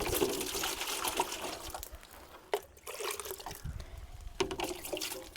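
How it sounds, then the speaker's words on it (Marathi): Water pours into a broken plastic bottle, a soft trickling splash that falters and resumes in uneven bursts, faint and close. "पाणी ओतूया."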